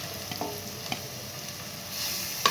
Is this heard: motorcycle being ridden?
no